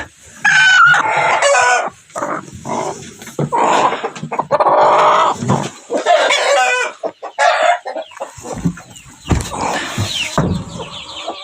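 A broody Kuchin hen clucks and croaks repeatedly up close, with busy, irregular bursts of chicken vocalizations throughout.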